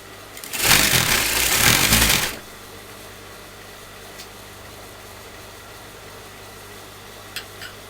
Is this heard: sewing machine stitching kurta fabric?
yes